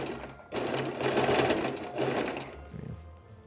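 A sewing machine top stitches the pockets of a Gomez Addams costume in close, steady whirring bursts, stopping briefly between runs and ending with a few slower stitches, with no voice over it.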